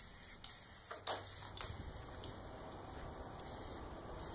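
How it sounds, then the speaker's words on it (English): Primer is sprayed from a can onto prepped, welded steel table-frame pieces outdoors, heard as a fairly quiet, steady hiss broken by a few short bursts and pauses. "I sprayed them down with a coat of primer"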